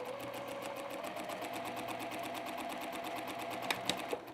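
A sewing machine stitches a quilt block in a fast, even run of needle strokes, close up and steady, with a few sharper clicks near the end as it slows or backstitches.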